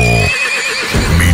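A horse neighs at a charro arena during a dancing-horse championship, giving a loud, close whinny that breaks off briefly and then returns over a dense, busy background.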